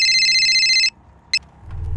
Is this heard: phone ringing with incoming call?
yes